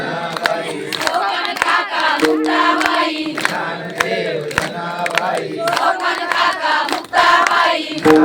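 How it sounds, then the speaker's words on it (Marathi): Rhythmic hand clapping from a crowd of devotees at a Marathi bhajan kirtan, steady and loud throughout alongside group singing and voices. "टाळ्या वाजवायच्या बरं का, टाळ्या वाजवायच्या."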